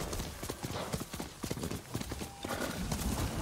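Horses gallop in a video game (Ghost of Tsushima), a quick, steady clip-clop rhythm of hooves over a dense background, with faint voices mixed in.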